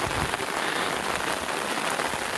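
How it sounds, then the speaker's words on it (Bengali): Heavy rain pours down on surfaces at a hill homestay area in Tonglu, a dense, loud, continuous hiss of drops with no voices. "জোরে বৃষ্টি নেমে গেছে"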